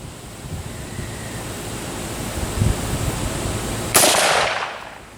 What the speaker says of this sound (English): Put the crosshairs right where you want the bullet to go and pull the trigger.